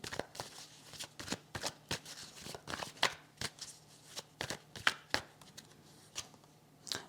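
Tarot cards being handled and laid over one another, a quick irregular run of close, sharp flicks and soft slaps, fairly quiet and with no talk over them.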